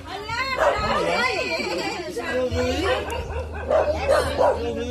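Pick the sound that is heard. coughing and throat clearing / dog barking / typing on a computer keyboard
dog barking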